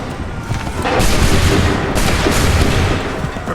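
Musket volley from a line of soldiers in Assassin's Creed 3, a loud sustained burst of overlapping gunfire cracks and booms rolling through the whole stretch, no talk heard.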